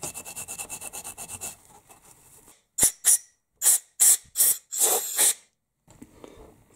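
Hand rubbing to clean the rear brake area of an Aprilia Leonardo 125 scooter, a quick rhythmic scrubbing at first, then a pause and a series of separate sharp wiping strokes, close and fairly quiet.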